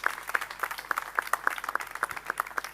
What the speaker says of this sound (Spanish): pido un fuerte aplauso también para Antonio